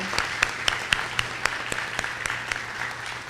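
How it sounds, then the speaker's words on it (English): Sustained applause from a room full of people at a State of Downtown Kenosha, Wisconsin event, loud and continuous, with a few distinct sharp claps standing out over the steady patter. "let's give them a round of applause"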